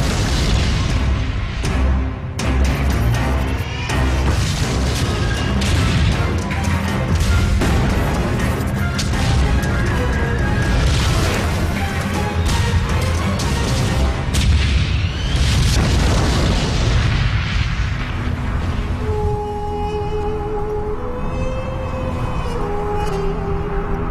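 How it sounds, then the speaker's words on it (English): Desert tank battle with heavy explosions and artillery fire, loud continuous booms and blasts rolling one after another, dense and close, with a sustained tonal swell near the end. "Two tank armies clash on a remote strip of desert"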